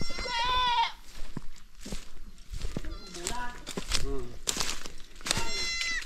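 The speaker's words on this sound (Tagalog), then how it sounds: "maliit na kambing" Goat Pura bleating in loud, quavering cries while giving birth, several calls spaced out over a few seconds with a person talking in between.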